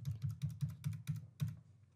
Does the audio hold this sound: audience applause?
no